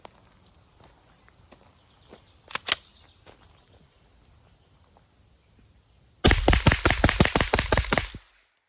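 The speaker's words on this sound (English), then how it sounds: "So now I'm going to shoot 115 instead of 124." Rapid string of shots from a Ruger PC Charger pistol firing 115-grain 9mm rounds, loud and sharp near the end after quieter handling noises and a couple of earlier pops.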